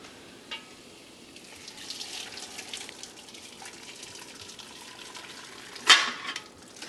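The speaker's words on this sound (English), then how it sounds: "We're going to take our pea broth, which is this beautiful sweet green now, and pour it right into the colander on top of those peas and onions." Green pea broth is poured through a colander onto cooked peas and onions, making a soft continuous trickle with a brief louder splash near the end.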